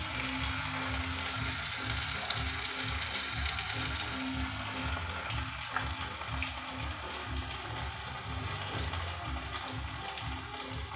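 Spice paste frying in a pan for a vegetarian curry, a continuous soft sizzle and bubbling hiss that stays even and close, with faint stirring and no talk.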